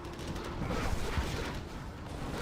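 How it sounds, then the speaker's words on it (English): Flashbang blasts go off amid a real-time strategy battle in Generals Zero Hour, a dense, continuous rumble of muffled booms with a few sharper hits, loud and unbroken throughout. "Got some flashbangs here."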